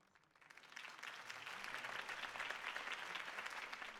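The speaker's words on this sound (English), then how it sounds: "could have heard that applause" Applause from a political rally crowd in Batman: The Telltale Series, a broad wash of clapping that swells from quiet to loud within the first second and then holds steady and dense.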